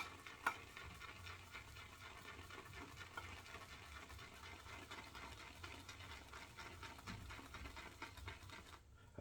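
Ariana and Evans Asian Pear shaving soap being swirled into a lather with a brush, a quiet continuous wet churning and patter with a steady circular rhythm, close and alone, with one sharper tap near the start.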